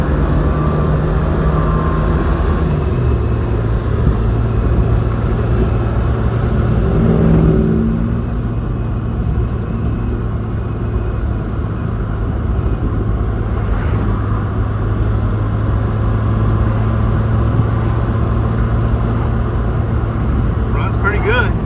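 Engine of a Suzuki Samurai fitted with tracks, a continuous low, steady hum with a brief rise in revs early on, running throughout with no talk.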